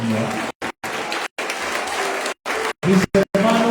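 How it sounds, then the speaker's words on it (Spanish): A church congregation gives a strong round of applause to the Lord at the close of a sermon, loud clapping broken by several abrupt cuts into silence, with some voices mixed in along the way. "Denle un aplauso fuerte al Señor."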